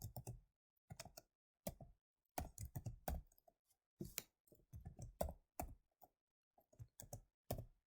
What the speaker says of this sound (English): I'm going to type in my function